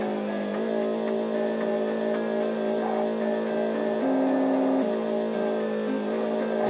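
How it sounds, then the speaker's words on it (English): A steady, high-pitched Formula 1 car engine in the Famicom Disk System game Famicom Grand Prix: F-1 Race drones continuously with shifting pitch, a synthetic-sounding motor roar with no talking. "Here you go through tunnels with a nice change in engine noise as you go through them."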